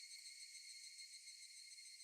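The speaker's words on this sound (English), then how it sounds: "For now, you only hear the cicadas." Cicadas drone in the background music of the Higurashi: When They Cry video game, a steady, even, high buzzing chorus that holds quietly throughout with no other sounds.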